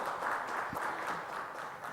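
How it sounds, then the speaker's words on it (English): Conference audience at an affiliate summit opening session claps to welcome a speaker to the stage, a soft, distant, continuous patter of applause. "Let's have a round of applause to welcome Parul on the stage"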